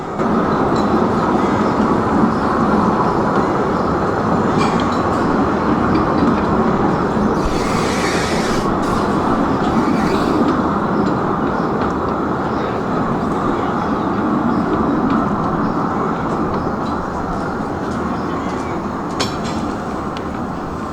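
Steady rumble and clatter of a ride in an open carriage on the La'al Ratty narrow-gauge railway, with continuous close wheel and rail noise and faint brief squeals.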